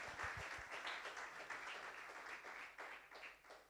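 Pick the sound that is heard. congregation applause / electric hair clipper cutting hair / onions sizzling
congregation applause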